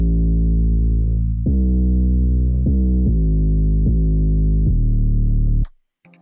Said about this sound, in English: And 808.